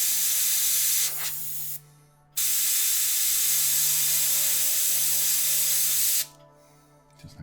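Airbrush spraying paint thinned with Vallejo airbrush thinner onto a miniature, a loud steady hiss in two long bursts separated by a brief pause, with a sharp click and a second short hiss at the end.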